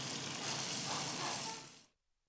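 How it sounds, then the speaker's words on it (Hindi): Whole spices sizzling and roasting in hot oil in a pot for chickpea pulao, a steady close crackling hiss that cuts off abruptly near the end, with no voices. "ये सारे मसाले डाल दिए, थोड़ी भुनाई हो रही है"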